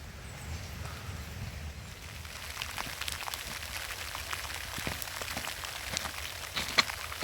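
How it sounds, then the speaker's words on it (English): Rain falls on a Lake District hike as a steady soft patter with scattered sharper drops and taps, close and continuous. "Rain started again."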